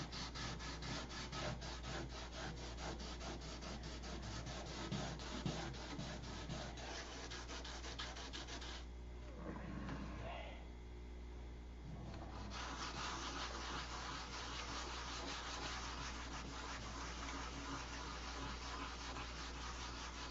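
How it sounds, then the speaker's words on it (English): Steady rubbing of sandpaper sanding off an airbrushed clear coat, a continuous close abrasive hiss with a short pause midway before the sanding resumes. "There's like 2 coats airbrushed and 2 coats regular, and I've sanded half of that off."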